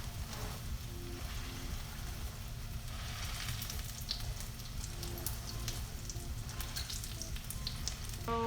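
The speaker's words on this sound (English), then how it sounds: "I'm gonna flip it one more time so I can cook both sides thoroughly." Korean pajeon pancake fries in a pan after being flipped, giving a steady close sizzle and crackle with scattered pops throughout and no talking.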